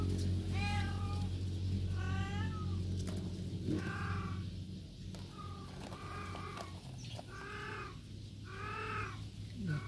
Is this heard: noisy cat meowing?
yes